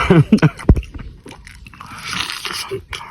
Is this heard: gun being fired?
no